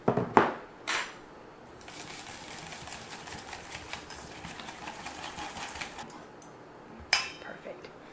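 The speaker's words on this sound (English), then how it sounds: "you're just going to whisk it all together" Whisking the sauce topping for mini meatloaves in a bowl, a steady scraping, rattling whisk running for several seconds between a few sharper clinks, close and fairly quiet.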